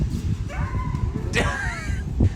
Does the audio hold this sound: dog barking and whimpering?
yes